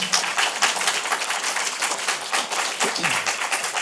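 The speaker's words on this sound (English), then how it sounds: "One more round of applause for Mr. Minicosi." Sustained applause from a conference keynote audience, dense steady clapping filling the space for several seconds with a faint voice briefly underneath.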